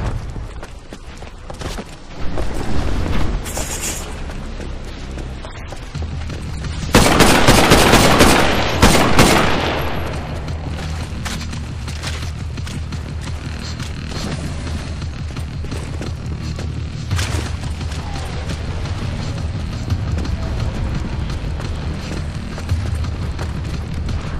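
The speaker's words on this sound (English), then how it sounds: "Sending in mortar titans. They're gonna stay away and lob rockets at the harvester" Titanfall Frontier Defense battle on Lagoon as mortar titans lob rockets at the harvester: a loud sustained burst of booming explosions and gunfire early on, then a steady rumbling din of combat continuing throughout.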